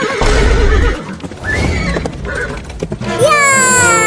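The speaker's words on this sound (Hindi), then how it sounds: "बहुत बढ़िया घोड़ा, ऐसा ही दौड़ता रहो।" A horse neighs loudly and close, with galloping hooves clip-clopping during a playful race in a rural comedy skit; a high whinny rises clearly at the end after a stretch of rough, noisy movement.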